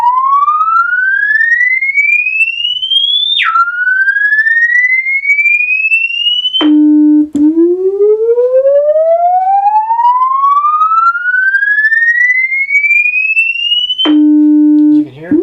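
A Minimoog synthesizer tone on a restored R.A. Moog unit, set with a slow attack and the decay turned to zero. Loud, steady tones sweep upward again and again, each rise broken by a brief low note, with no talking.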